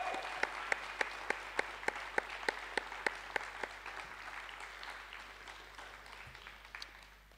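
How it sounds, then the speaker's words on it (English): Audience applause after the extemporaneous speaking finals at a school forensics and debate competition: a steady wash of many hands clapping, with a few sharp nearby claps standing out, fading gradually and heard without talk. "One more round of applause for our extemporaneous speakers."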